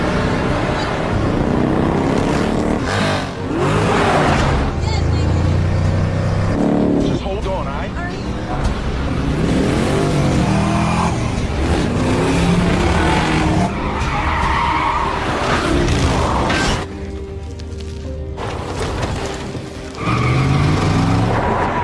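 A car speeds at high speed in a chase pursued by a motorcycle gang, with loud tire skids and engine roar shifting throughout a dramatic action scene under music and other effects.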